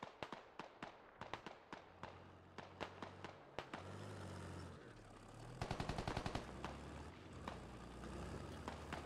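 Gunfire in the video game Squad: scattered single shots crack at irregular intervals, followed by a denser rapid burst, with a vehicle engine rumbling underneath throughout.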